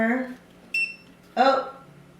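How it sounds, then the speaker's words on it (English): A Mountrax massager gives a short bright electronic beep from its timer as it is switched on, a single quick tone between bursts of nearby talk. "Let's turn it on. Oh, that's the timer."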